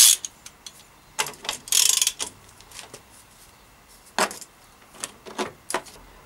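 A ratchet undoing a 14 mm pedal bolt on a 1994 Claud Butler mountain bike, with sharp clicking bursts spaced irregularly, close and fairly loud, including one longer rapid run of clicks.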